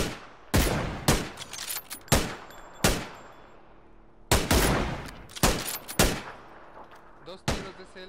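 Sharp gunshots from a CLR rifle in the video game PUBG crack out in uneven bursts, single shots and quick doubles spread across several seconds, loud and close with short echoing tails.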